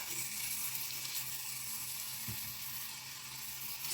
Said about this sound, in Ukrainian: смажу на середньому вогні.